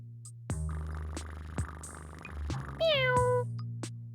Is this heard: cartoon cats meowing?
yes